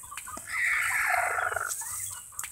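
Close hen vocalizing from a blue egg layer chicken, a single drawn-out squawking call lasting about a second, moderately loud over quiet farmyard background.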